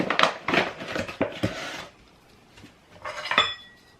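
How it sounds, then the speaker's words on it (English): Vegan pizza dough mixed by hand with a whisk in a bowl, a quick run of knocking, scraping strokes, a short pause, then another brief burst of whisking with a metallic clink. "I'm gonna use a whisk and basically just mix this how a mixer would mix it, by hand"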